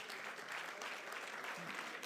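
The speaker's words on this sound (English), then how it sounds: "A round of applause for your chairman" A convention audience at the AHEPA 2021 Supreme Convention gives its chairman a steady round of applause, many hands clapping in a continuous, even wash, quiet and somewhat distant.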